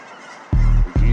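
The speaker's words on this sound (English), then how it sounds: "Oh, the geese are here." Migrating geese honk loudly in two close bursts, the first longer and the second starting just after a short gap, over a quiet outdoor background.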